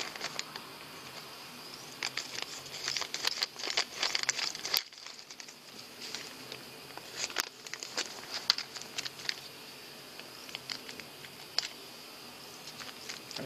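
Dry crinkling and crumpling of packaging paper from steering ball joints, close by, in irregular bursts with a brief pause midway.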